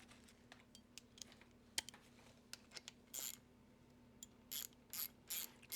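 A ratchet wrench clicks as it turns a 10 mm bolt on the door panel of a Hummer H2 with a broken rear window regulator; sparse close ticks speed into several short bursts of rapid clicking, with no talk.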